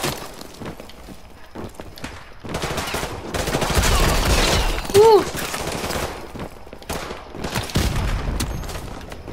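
Rapid video game gunfire crackles in bursts through a busy, cluttered mix of in-game sound, with a player's voice shouting excitedly over it.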